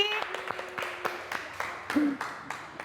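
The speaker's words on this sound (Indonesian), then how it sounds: "boleh tepuk tangan untuk Resti" A classroom claps for a student named Resti, a few hands giving sparse, uneven claps over faint background noise, with a brief voice or tone partway through.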